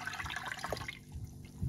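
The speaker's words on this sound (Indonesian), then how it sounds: "tambahkan 800 ml air" Water poured from a container into a mango mosaic pudding mixture in a bowl, a steady splashing pour that stops partway through, leaving faint drips and stirring sounds.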